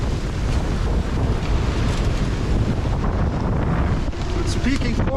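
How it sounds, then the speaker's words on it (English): Strong gusting wind of up to about 40 knots roars over a sailboat at sea as waves build, a loud continuous rush of wind buffeting the microphone with water surging underneath. "Waves are picking up as well, so I've adjusted my course northwestwards with the waves and wind."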